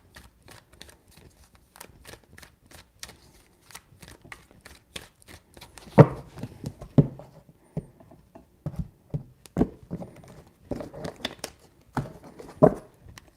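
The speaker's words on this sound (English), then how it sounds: "Three shuffles." Tarot cards being shuffled by hand in close, crisp bursts of riffling and slapping, starting soft and growing louder in uneven clusters with short pauses between.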